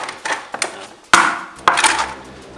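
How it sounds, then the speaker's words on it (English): Tools clank and knock against metal while the small intake is pulled off a B20 engine, a few sharp close impacts over quieter scraping and rattling, no talk. "First, take this little intake off."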